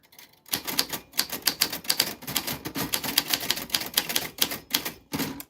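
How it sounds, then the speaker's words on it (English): An old vintage typewriter types a name, rapid clacking keystrokes in uneven bursts with a short pause before the final few strikes, close and crisp with no voices. "That is how your name sounds on an old vintage typewriter"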